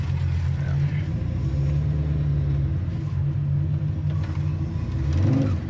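A 1969 Pontiac Firebird 400 restomod's V8 rumbles at a steady low idle from inside the car, a deep continuous drone with faint road noise and brief conversation over it.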